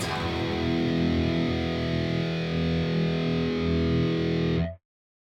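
A heavily distorted electric guitar chugs a muted low riff for a few seconds, then the sound stops abruptly.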